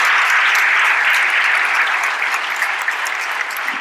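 An audience at a three-minute thesis final claps for the finalists, a bright dense wash of many hands that holds evenly, then eases slightly as it tapers.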